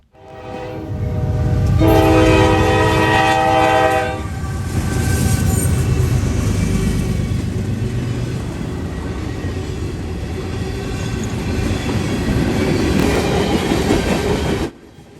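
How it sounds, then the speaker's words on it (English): Westbound train 179 passes the Glade Run crossing at milepost 158 near London, blasting its horn loudly several times over a steady rumble and clatter of wheels on rails. "179 heads westbound at milepost 158 at a crossing called Glade Run just outside of London"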